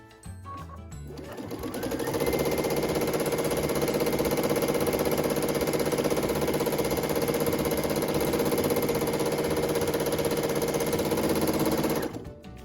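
Domestic sewing machine stitching free-motion quilting on a quilt sandwich: a short start-up, then a steady, loud, continuous motor whir and needle chatter for about ten seconds before it stops.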